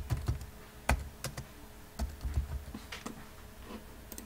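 Close keystrokes on a computer keyboard while a password is entered during a MySQL install on Windows 8, irregular clicks and taps with brief pauses and no talk.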